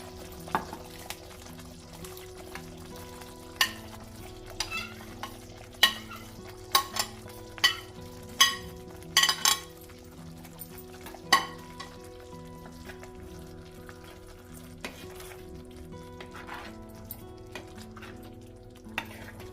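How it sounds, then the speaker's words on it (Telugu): Fried mushrooms tipped into a mushroom kurma with curd, coconut and cashews and stirred in a pan, a steady low sizzle punctuated by a series of sharp spoon knocks and scrapes, close, with no talking. "ఆయిల్లో ఫ్రై చేసుకున్న మష్రూమ్స్ని ఇందులో వేసేసుకోండి"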